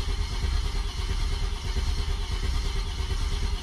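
An Audi A6 engine cranking on a cold day without catching, a steady dense mechanical churn and whir held close and continuous throughout.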